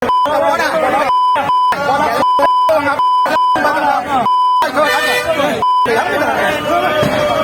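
A steady high censor beep repeatedly cuts in over loud, continuous speech, bleeping out stretches of talk several times.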